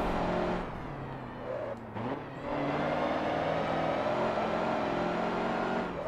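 A diesel truck engine droning steadily under acceleration in the Forza 7 racing game, continuous loud whirring with a brief dip midway as if shifting, no speech over it.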